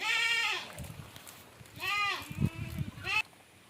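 A young Malabari buck goat bleats three times, loud and close, with short shuffling and rustling between the calls.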